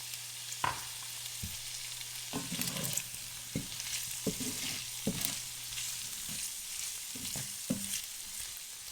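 Defrosted frozen peas and carrots stir-frying with fried rice in a pan, a quiet sizzle broken by repeated spatula scrapes and taps as the mix is stirred.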